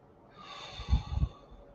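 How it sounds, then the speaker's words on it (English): A single slow breath drawn in through the nose, a soft airy inhale building to a couple of close, snort-like puffs before fading out. "breathe in through your nose"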